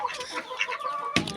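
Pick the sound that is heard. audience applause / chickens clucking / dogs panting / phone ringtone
chickens clucking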